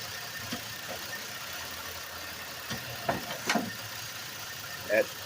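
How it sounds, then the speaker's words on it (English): A 2010 Chevrolet Impala idles with a bad lower motor mount, a steady low engine drone running throughout with a few brief knocks and thumps rising over it, and faint voices in the background. "This bad motor mount is causing the vehicle to vibrate."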